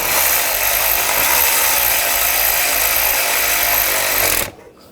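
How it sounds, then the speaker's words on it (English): A power tool runs loud and steady on a T30 socket, tightening the water pump pipe on a Volkswagen Tiguan, a continuous close whir with no talking that cuts off abruptly near the end. "use the T30 socket,"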